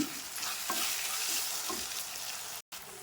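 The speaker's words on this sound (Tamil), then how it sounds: "அதையும் போட்டு நல்லா வதக்குவோம். இப்போது கிள்ளி வச்சுருக்க கருவேப்பிலையும் சேர்த்துக்கிறேங்க." Curry leaves and spices sautéing in a pan give a steady, close sizzle with soft stirring scrapes, running without talk until a brief dropout near the end.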